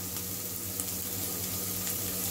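Onion greens and vegetables sautéing in a pan, giving a steady, soft sizzle with faint scraping and crackle throughout, fairly quiet and close.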